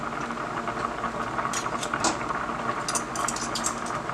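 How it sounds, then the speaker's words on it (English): Macaroni boiling in a pot of water with oil added, a steady bubbling simmer with light clinks of kitchen utensils and no talk. "you see my macaroni is boiling, but it's not boiling over because I put that oil in it"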